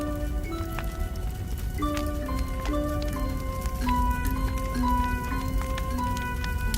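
Rain patters steadily across a surface as a sound effect in a children's story, blending with gentle, slowly shifting musical tones throughout, with no speech.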